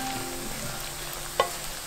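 Vegetarian zhajiang sauce frying in hot oil while being stirred, a steady close sizzle with one sharp spatula scrape near the end and no voices.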